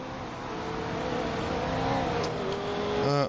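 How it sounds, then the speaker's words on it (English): Engines of 1960s race cars revving and accelerating off the line at the start of a Le Mans race in the Assetto Corsa video game, a loud, building roar of several cars with a rising whine near the end. "And lights are out. And here we go for 5 laps of the 1960s Le Mans race."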